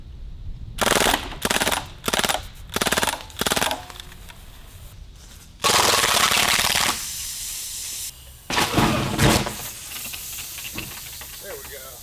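Rapid full-auto bursts from a CO2-powered BB gun firing at a target of shaving cream outdoors in freezing weather: several short sharp bursts, then longer sustained strings of fire with a hissing gas edge, loud and close.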